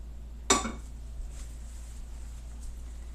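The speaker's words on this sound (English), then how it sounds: "Small frying pan." A small frying pan is picked up in a kitchen, giving one sharp metallic clink that rings briefly, then a steady low hum with faint scattered clatter.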